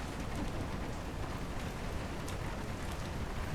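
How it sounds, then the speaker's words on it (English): Steady rainfall from the weather effects of an indie video game, a dense, even hiss of drops with a faint low rumble underneath, continuous and moderately loud with no voices. "You can hear the weather, you can hear the rain."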